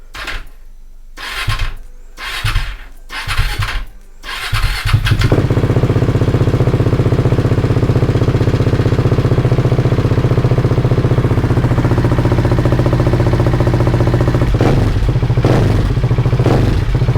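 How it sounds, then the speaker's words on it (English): A Husqvarna 701 / KTM 690 single-cylinder motorcycle engine cranks in several short bursts, then fires and settles into a loud, steady close idle that ticks over evenly for the rest of the clip. "Starting up, just let it tick over for a little bit"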